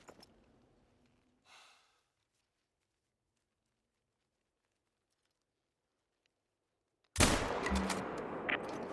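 A single loud, sharp rifle shot in the hunting video game Hunter: Call of the Wild breaks a long near-silence, followed by a trailing echo.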